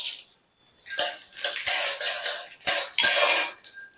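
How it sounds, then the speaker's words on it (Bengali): Raw peanuts fry in white oil in a pan over a low flame, with a steady close sizzle broken by repeated scraping and clinking of a stirring utensil against the pan. "বাদামটা একটু লাল করে ভেজে নেব।"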